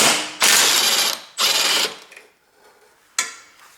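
A ratchet wrench clicks loudly in two long bursts, then a sharper final snap, as the last of eight bolts comes off the front steel bumper of a BMW 3 Series E90, close up with no talking.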